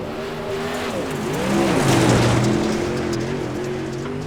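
Super late model race cars roar past on a warm-up lap. Engine notes rise and fall with pitch sweeps as they swell louder toward the middle and then fade slightly, with no talking.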